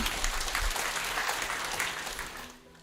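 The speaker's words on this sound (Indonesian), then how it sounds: "Oke, tepuk tangan ya." A church congregation claps during a pastor's sermon, producing dense, loud applause that holds steady and then tapers off near the end.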